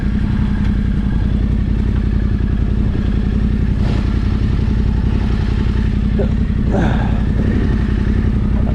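A Yamaha Tenere 700 adventure motorcycle runs on an off-road stop, its engine a loud, steady, close throb throughout with faint clatter and a voice here and there.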